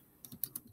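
A short burst of typing on a computer keyboard: about five quick, light key clicks in under a second, close and quiet.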